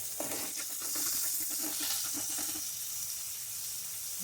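Onions being sautéed in a pan for a simple chicken curry, giving a steady, moderate sizzle and hiss that continues throughout with no talking.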